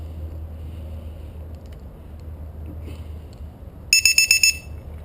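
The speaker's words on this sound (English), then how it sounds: "I'm going to plug the second LiPo alarm" A rapid series of shrill electronic beeps from a LiPo battery alarm plugged into a quadcopter, about six in quick succession, near and loud, after several seconds of low background hum.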